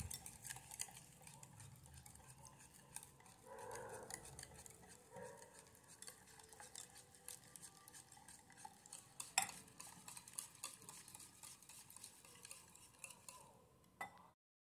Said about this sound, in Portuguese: Vou misturar aqui.